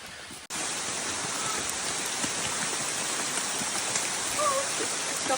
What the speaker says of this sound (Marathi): पाऊस येतोय आता